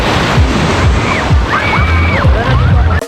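Sea waves washing onto a beach after a fun run, a continuous loud rush of surf and wind buffeting the microphone, with a few faint voices in the background.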